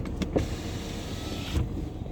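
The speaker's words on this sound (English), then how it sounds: "I feel really silly demonstrating the windows" Power windows on a 2014 Porsche Panamera Turbo whir up and down with a soft electric motor hum, faint and close against quiet cabin background, with small clicks where each window starts and stops.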